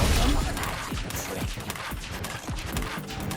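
Shaco's clone exploding in League of Legends, a dense barrage of loud bursts and crashing impacts layered over busy game effects, with repeated sharp hits throughout.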